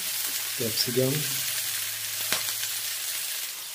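Capsicum and beans frying lightly in a pan for masala Maggi, a soft steady sizzle running throughout with a brief burst of voice early on and a sharp clink from the pan near the middle.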